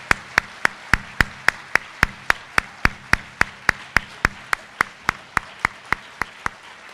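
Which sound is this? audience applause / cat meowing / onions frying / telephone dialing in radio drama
audience applause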